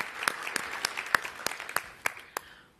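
Applause for award winners at the 2017 O'Reilly Defender Awards: about nine separate, sharp claps land at a fairly even pace, sounding like a small scattered group rather than a full crowd.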